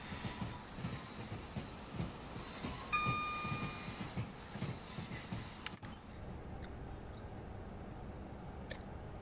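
A Pendolino train runs along the track, giving a steady rumble with squealing wheels and a brief tonal whine partway through before the sound settles to a quieter hiss, heard from inside.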